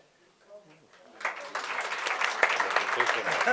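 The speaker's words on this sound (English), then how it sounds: "Please give Professor Irwin a warm round of applause." An audience at a book launch breaks into a warm round of applause for a speaker being introduced. After about a second of near quiet, dense clapping swells and holds steady to the end.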